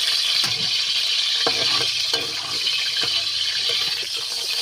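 Adobo frying in a pan as more cooking oil goes in, a steady broad hiss and sizzle throughout with a few sharp clinks and stirring knocks over it.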